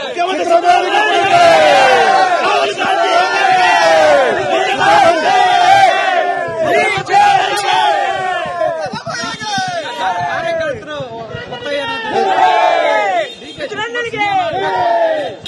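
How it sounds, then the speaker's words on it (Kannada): Congress party workers chant slogans in unison for D.K. Shivakumar, a loud, dense crowd of voices rising and falling in rhythmic waves of cheering and shouting throughout. "ಸನ್ಮಾನ್ಯ ಡಿ.ಕೆ. ಶಿವಕುಮಾರಿಗೆ ಜೈಕಾರ ಹಾಕುವುದು ಕಾಂಗ್ರೆಸ್ ಪಕ್ಷದ ಕಾರ್ಯಕರ್ತರ ಸಂಪ್ರದಾಯ"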